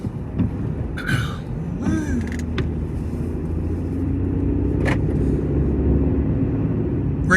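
A car driving on a road at night, heard from inside: a steady low engine and road rumble throughout, with a brief throat-clearing-like noise near the start and a few small interior knocks, fairly loud.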